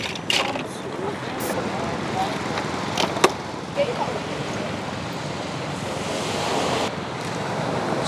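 Surf washing ashore at a seaside night seafood market in Son Tra, Da Nang, a steady broad roar of waves and wind with a few brief clatters and faint market sounds mixed in.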